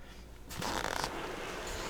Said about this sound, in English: This zipper is upside down as well.